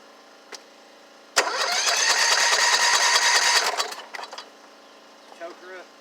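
A Kohler Courage 18hp engine cranks with a sharp starter whir, grinding on for a couple of seconds without catching, then winds down and stops, heard up close with a brief voice afterward.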